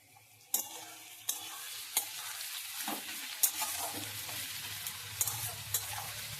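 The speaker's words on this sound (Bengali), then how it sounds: "সামান্য পেঁয়াজ একটু লবণ দিয়ে ফেললে পেঁয়াজটা তাড়াতাড়ি গলে যাবে, নাহলে ভাজা হতে টাইম লাগে অনেক" Onions sprinkled with a little salt fry in a pan, a low steady sizzle broken by periodic clicks and scrapes of a spatula stirring, soft and close with no voices.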